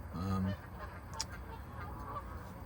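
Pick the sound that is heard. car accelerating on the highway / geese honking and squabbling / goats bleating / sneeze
geese honking and squabbling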